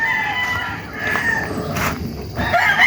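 Roosters crowing at a Filipino gamefowl farm, several long harmonic calls overlapping in sequence, fairly close and loud, with faint farmyard background and no talk.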